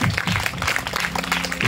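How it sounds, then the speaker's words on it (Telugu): A church congregation claps together in a short burst of dense, loud applause, the overlapping hand claps merging into a continuous patter with a faint voice underneath. "దేవుని గట్టిగా చప్పట్లు కొడదాం."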